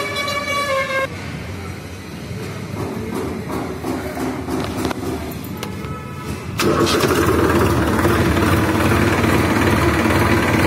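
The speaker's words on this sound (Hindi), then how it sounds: "क्लच दबाने के बाद ही ट्रैक्टर स्टार्ट होगा" A Massey Ferguson 7235 tractor engine cranks and catches, then settles into a loud, steady diesel idle that continues to the end, with no voices.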